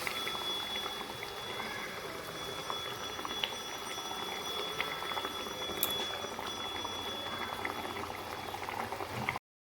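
Vegetarian egg curry gravy boiling steadily in a pan, a continuous bubbling simmer with small pops and a faint whistle-like tone, nearby and at moderate level with no talking.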